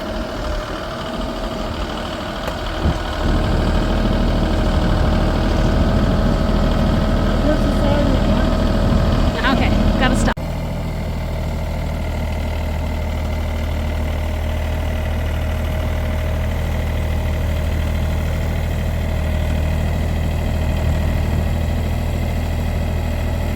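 Tractor engine idling on a farm building site, a steady low rumble heard up close, with a brief clatter midway before the idle settles slightly quieter and continues.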